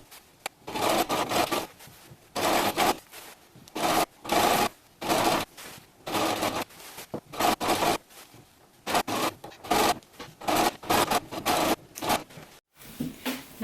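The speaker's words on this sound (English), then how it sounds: "Now I'm going to sew this seam." A sewing machine runs a half-inch seam around a knit t-shirt dress in close, loud bursts of rapid stitching, each lasting one to two seconds and separated by short pauses, with no talking.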